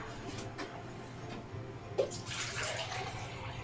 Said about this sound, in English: Pour myself some more water here. Refill my water jug.